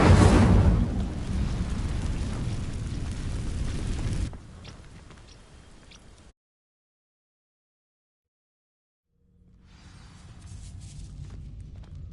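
A fire spell bursts into flame on dry vines in the Hogwarts Legacy video game, a loud whooshing blast that crackles for about four seconds, then a softer tail, a silent gap and quieter game ambience returning.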